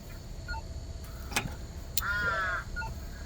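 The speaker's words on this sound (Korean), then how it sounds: "그 사이에 또 까마귀가 앞에 있는 거 챙겼어요" A crow caws once at the Everland safari park in Korea, fairly distant over a steady outdoor hum. A couple of faint clicks come just before it.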